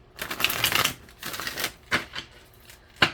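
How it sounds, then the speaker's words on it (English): Tarot cards being shuffled by hand in several short quick bursts of riffling and flicking, close and fairly quiet, with a sharp final snap. "One more shuffle."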